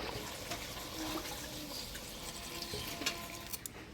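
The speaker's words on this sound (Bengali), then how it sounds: "আলু মাংস ভালোভাবে কষে নিলাম। এবার জল দিয়ে দিব।" Water poured into a pot of potato and meat curry, a soft continuous splashing and trickling stream that runs steadily for a few seconds, faint and fairly close, with no talking.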